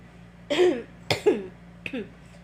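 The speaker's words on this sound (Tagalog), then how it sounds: "pasensya na sa medyo inuubo pa rin" Three coughs, a harsh pair close together and then a lighter one, each short and raspy, close to the listener against a quiet hum.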